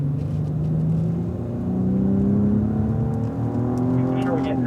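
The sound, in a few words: Cadillac ATS-V accelerating on race track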